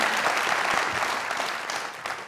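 A large crowd claps for cricketer Mohammad Yousuf at a celebratory welcome event, a thick, close burst of applause that holds steady before tapering slightly at the end.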